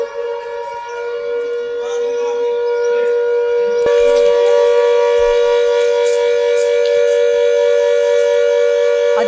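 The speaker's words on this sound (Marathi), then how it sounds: "पाकिस्तानच्या गोळीबारानंतरच नागरिकांनी सतर्क व्हावं यासाठी हे सायरन वाजवण्यात आले" Civil defense siren in Poonch wailing after Pakistani cross-border shelling, a loud steady tone that swells louder partway through and holds alone without talk.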